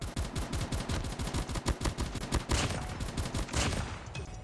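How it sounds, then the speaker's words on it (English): Dense, rapid gunfire and explosive bursts from bots in Call of Duty Mobile pound repeatedly at close range, a continuous rattling barrage that thins slightly at the end. "I just heard a bunch of bots shoot nades."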